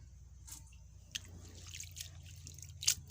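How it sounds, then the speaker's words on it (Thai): Edible seaweed is washed by hand in water, giving faint drips, trickles and small splashes at uneven intervals in a quiet setting. "ล้างสองสามน้ำแล้ว"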